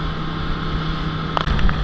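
A boat motors through choppy water on a spearfishing run in the Florida Keys, its steady engine drone and wash filling the clip, with a few brief splashes or thumps near the end.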